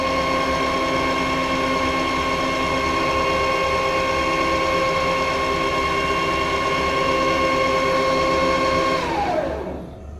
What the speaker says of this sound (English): So I'll turn my spindle on.